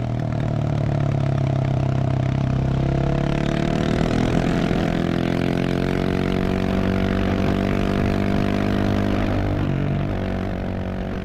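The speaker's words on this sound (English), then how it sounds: "if you mount any of the Hero cameras on top of a motorcycle helmet and drive around, I think the audio is pretty much useless." A motorcycle engine drones steadily throughout, recorded from a helmet-mounted GoPro, with constant loud rushing wind noise over the engine's hum.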